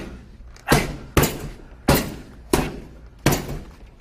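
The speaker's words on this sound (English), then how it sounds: "I'm going to give Justin a couple minutes of power shots" Boxer throwing power punches into pads or a bag: five heavy, sharp thuds spaced roughly every 0.6 to 0.7 seconds, loud and close with no talk.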